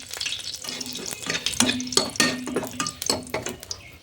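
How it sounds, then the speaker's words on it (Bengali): Panch phoron and two dried red chillies hitting hot oil in a pan, bursts of crackling sizzle with spoon scraping and stirring, close and fairly loud, in uneven pulses. "তেলটা গরম হলো নাকি দেখে একটু পাঁচফোড়ন দিয়ে নিই"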